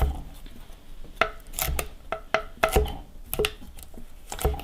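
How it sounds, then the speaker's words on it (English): Ginger root diced into small squares with a knife on a cutting board: a quick series of sharp, close chopping taps in an uneven rhythm, about a dozen strikes, with no talking. "So we're just going to cut this into little ginger squares here."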